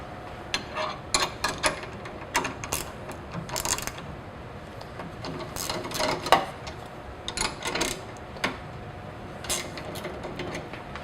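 Two 13mm wrenches loosen bus bar connection bolts on a FlexKraft module during a repair, giving close, sharp metallic clicks and ratcheting scrapes in irregular clusters with short pauses between them.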